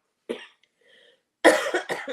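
A single harsh cough, a brief pause with a faint wheeze, then a burst of two or three rough coughs close up.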